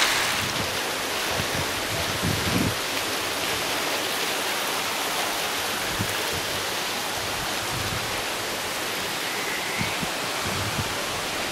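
Water streams out of many pipes in a tropical garden grotto near Funchal, Madeira, making a constant broad rushing hiss like a fountain, steady and fairly loud, with faint low thumps beneath.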